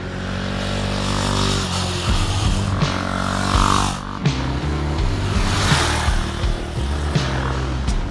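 A Husqvarna 701 Vitpilen motorcycle being ridden, its engine droning loud and close throughout, with pitch rising and falling through shifts and throttle changes and a brief dip near the midpoint before it pulls again.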